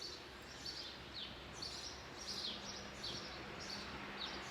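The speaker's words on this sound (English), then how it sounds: "Just listen to those birds." Birds chirp and sing in repeated short bursts over a steady outdoor background hush in the Swiss countryside, with calls spaced every half second or so and moderately distant.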